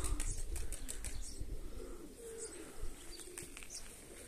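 Iranian breed pigeons fly overhead outdoors, with bursts of wing flapping and a few soft coos and chirps over steady low background noise, no talk.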